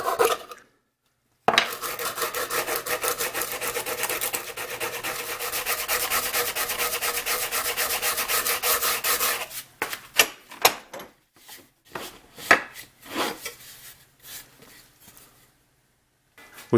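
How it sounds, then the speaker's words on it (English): Sandpaper wrapped around a 3/4 inch dowel rubs back and forth on wood while shaping a hand-built Shaker step stool, first as a steady continuous rasp, then as a series of short, separate scrubbing strokes, close and clear with no talk. "I grabbed a 3/4 inch dowel and a piece of sandpaper to do the final shaping."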